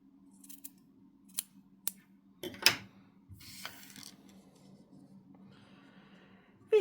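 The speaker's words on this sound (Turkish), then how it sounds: "çiçekleri de diktikten sonra buradaki ipi de kesebilirsiniz" Scissors snip the yarn of a handmade crochet hat keychain: a few short, crisp clicks spread over several seconds, close and quiet, with a faint low hum beneath.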